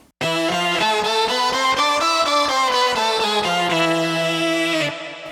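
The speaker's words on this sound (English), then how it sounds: "I've chosen 5 of the wave shapes, combine them together, and run those through an Ibanez tube screamer" Five wave shapes from a Korg guitar synthesizer, combined and run through an Ibanez Tube Screamer, play a loud, bright, buzzy run of picked notes in quick succession, then hold a final ringing note, with no voices.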